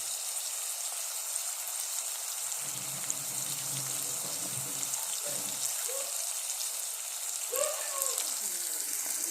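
Tomatoes soften in a pan for a fish curry, a steady close hiss of sautéing that runs throughout with a few soft stirring bumps and bubbling pops near the end.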